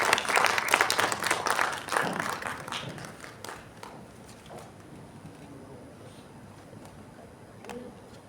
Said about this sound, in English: Please join me to welcome Professor MAM Sameem with a huge round of applause.